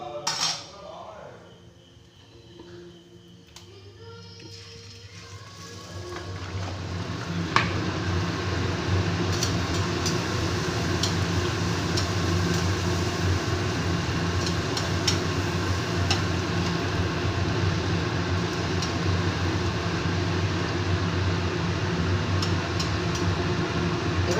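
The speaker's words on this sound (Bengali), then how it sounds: "তেল গরম হয়ে গেছে আস্তে আস্তে এই হিঙের কচুরিগুলো ভেজে নেব" Hing kachoris frying in hot oil in a wok: a steady, continuous sizzle and bubbling that builds after a quieter start with faint clinks, then holds even and close for the rest.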